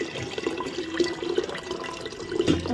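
Sabudana (sago pearls) is rinsed in water several times. Close, continuous sloshing and swirling of water goes on with small splashes throughout.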